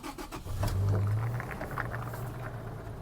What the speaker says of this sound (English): All you do is turn the key on, push that clutch start cancel button, and then start the vehicle.